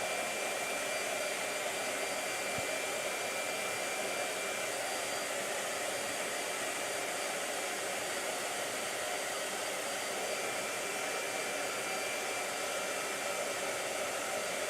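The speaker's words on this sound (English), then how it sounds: "the blow dryer doesn't bother me, Anne-Marie." A blow dryer runs steadily and loudly for the whole stretch, a constant broadband whoosh with no pauses and no voices over it.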